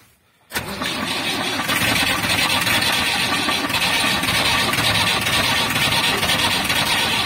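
An old tractor engine cranks over after its glow plugs are warmed, catching and running loud and steady with a dense, rough roar that fills the whole stretch after a brief quiet start.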